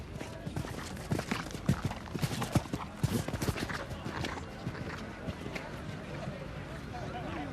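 Clip-clop of show jumper Dark Star's hooves on the ground at an outdoor horse show as the round begins, rhythmic thuds under a busy crowd murmur and voices, fading toward the end.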